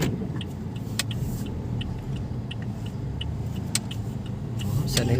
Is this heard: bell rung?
no